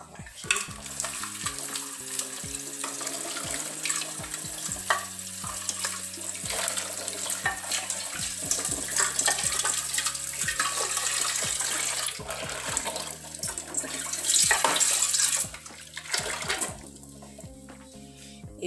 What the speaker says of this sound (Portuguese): Agora eu vou lavar aqui pra nós ver o resultado.